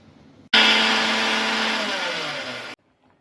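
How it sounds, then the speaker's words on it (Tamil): A mixer grinder blends sour curd in one loud, steady whirring burst of about two seconds that starts and stops abruptly, with no talking over it. "இப்போ அதை வந்து மிக்சியில் போட்டு அடிச்சு எடுத்துக்கலாம்."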